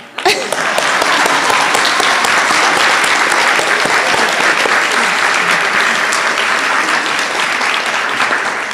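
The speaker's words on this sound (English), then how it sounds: "Please clap." Loud, dense applause from an audience at an annual general meeting honouring award recipients, a sustained roar of many hands clapping that starts abruptly and holds strong for about nine seconds.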